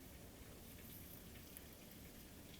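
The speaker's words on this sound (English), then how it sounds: "Can you hear the rain? Listen." Steady rain falls outside, a dense, even patter with scattered droplet ticks holding at a constant moderate level throughout with no voices.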